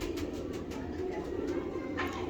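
A prized pigeon, part of a breeding pair, coos softly in repeated low pulses nearby, steady and even over light background noise.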